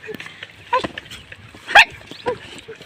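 A puppy lets out a few sharp, high yips and little barks in quick bursts, fairly close, over a quiet background with people talking nearby.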